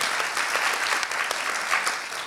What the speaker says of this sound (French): On peut vous applaudir fortement.